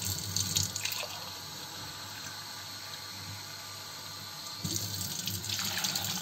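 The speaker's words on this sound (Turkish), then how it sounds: "Su bardağıyla ne kadar su koyacağımızı." Water pours steadily from a drinking glass into a pot, a continuous close splashing with slightly louder bursts at the start and end.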